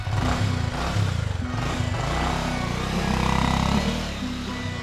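A Honda motorcycle engine revs and chugs close by as the bike is ridden off, its throbbing note easing slightly toward the end.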